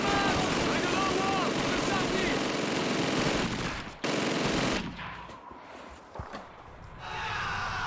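Sustained machine gun fire in the World War II shooter Call of Duty 2, a loud, dense burst filling the first four seconds, then fading into quieter scattered shots and ambience.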